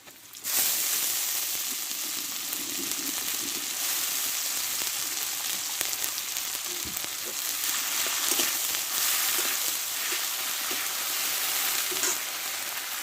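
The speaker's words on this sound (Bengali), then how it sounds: "পেঁয়াজটা আমি একটু ভালো করে ভেজে নিচ্ছি লাল লাল করে" Sliced onions frying in hot oil until reddish for a Bengali small-fish and eggplant curry, giving a steady, loud, continuous sizzle that starts abruptly and holds throughout without speech.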